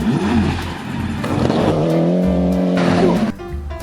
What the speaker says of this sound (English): Alright, this is a rally car.